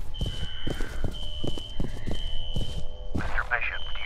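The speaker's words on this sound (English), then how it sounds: "A fire alarm. It was triggered at a security office on that floor." In the video game F.E.A.R., a fire alarm triggered at a security office rings as a steady high electronic tone behind heavy, rhythmic footsteps and a brief voice.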